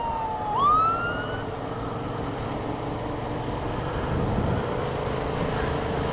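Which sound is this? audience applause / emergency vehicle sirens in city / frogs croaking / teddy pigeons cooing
emergency vehicle sirens in city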